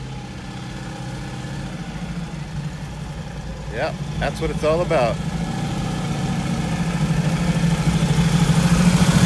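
A car idles as it pulls in at a Riverside cars and coffee meet, a steady low engine rumble that grows gradually louder and closer, with someone speaking briefly over it.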